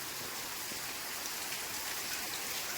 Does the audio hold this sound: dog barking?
no